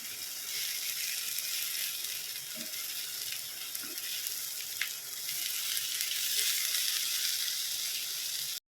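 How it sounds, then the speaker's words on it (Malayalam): Sardines stirred into masala in a hot pan give a constant, even sizzle and hiss, with a few faint scrapes underneath and no voices. "അതിലേക്ക് ആ മീൻ കൂടി ഇട്ടു വരും. ഈ പൊടിഞ്ഞു പോകാത്ത രീതിയിൽ അതൊന്ന് മിക്സ് ചെയ്ത് വെക്കാം."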